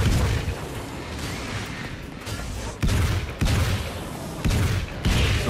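Gunfire from the video game Alan Wake's American Nightmare: dense bursts of shots with heavy low booms, clustered into several loud volleys over a steady background of game noise.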